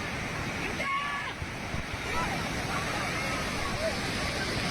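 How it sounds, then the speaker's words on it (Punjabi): Steady rushing river water roars continuously, a broad wash of splashing and churning with wind-like noise and no pauses. "ਪਾਣੀ ਦੀ ਰਫਤਾਰ ਦੇਖੋ ਛੁੱਲਾ ਮਾਰਦਾ ਪਾਣੀ"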